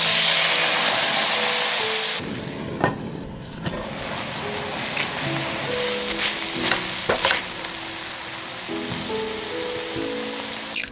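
Wasabi sauce hits a hot wok with a loud, close sizzle that drops sharply after about two seconds. A crackling fry continues after that, with occasional stirring clatter and no voices.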